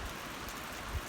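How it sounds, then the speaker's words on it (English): Heavy rain comes down outdoors on a pasture, a dense, steady hiss of drops drumming on surfaces, close and continuous with no voices. "Better get this thing parked, get out of the rain. I timed that just right. It's really coming down now."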